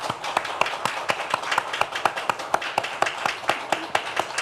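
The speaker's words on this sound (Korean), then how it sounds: "축복의 박수를 한번 했으면 좋겠습니다" A church congregation at a Sunday service claps together in a steady, fairly even stream of sharp slaps that lasts from start to finish, with no voices over it.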